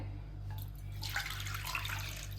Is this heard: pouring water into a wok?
yes